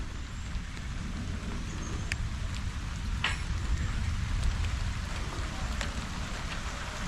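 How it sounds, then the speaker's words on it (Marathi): Steady rain hisses throughout, dense broadband patter with a few sharper drip clicks, continuous and fairly close, no voices. "आता पाऊस पण चालू झालो"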